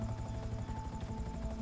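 A helicopter in GTA 5 gives off a steady, close rotor throb with a rapid rhythmic beat and an engine drone underneath, and no voices are heard.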